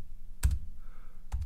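Two quick bursts of keystrokes on a computer keyboard, close and fairly soft, separated by a short pause over a quiet room hum.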